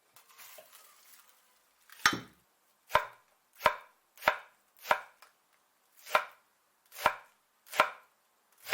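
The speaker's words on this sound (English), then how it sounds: "I started to cut leek." A knife chops leek on a board in eight crisp, evenly spaced strikes after a moment of faint rustling, each cut close and distinct against quiet surroundings.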